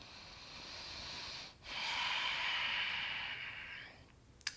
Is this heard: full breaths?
yes